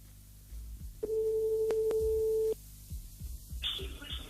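Telephone tone on a prank call line, a steady tone about one and a half seconds long with two brief clicks, followed by low room noise and a short burst of rustle.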